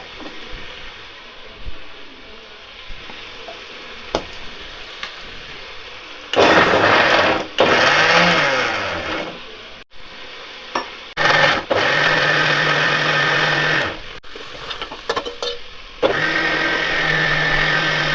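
A kitchen mixer grinder grinds onion and green chilli in loud, high-pitched whirring bursts of a few seconds each, separated by pauses and jar rattles; no talking.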